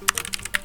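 Computer keyboard being typed on while entering a Linux command, about seven quick, close key clicks in under a second.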